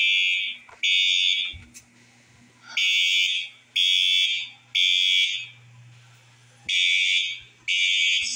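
A 12-volt fire alarm set off by its pull handle in a bedroom test setup blares loud, repeating electronic tones in regular on-off bursts about once a second, heard up close.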